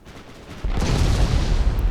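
Battleship main guns fire in the naval combat game Ultimate Admiral Dreadnoughts: a sudden heavy boom lands about midway, followed by a rumbling, sustained roar of artillery that stays loud to the end.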